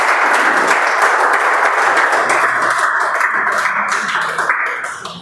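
Loud, dense applause from a Toastmasters club audience welcoming Toastmaster Karthik, many hands clapping steadily and close, tapering off toward the end.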